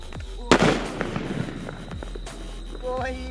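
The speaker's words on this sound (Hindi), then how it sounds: "हमारे पास है यहाँ पर अनिल का आइटम बम भाई, इसके अंदर से एक हम अनिल बम निकाल लेते हैं।" Anil brand firecracker bomb bursting outdoors during Diwali testing: one sharp, loud bang followed by a rumbling, crackling decay and scattered faint pops, with background noise and a brief voice near the end.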